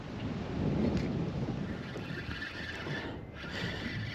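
Wind buffets the microphone on a small fishing boat out on the water, a constant rough roar and rumble that rises and falls slightly with no voices.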